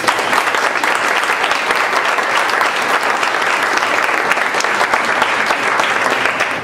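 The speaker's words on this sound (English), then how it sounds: "Round of applause for you." Sustained, loud applause from a banquet audience honoring athletes, with dense clapping holding steady throughout and no talk over it.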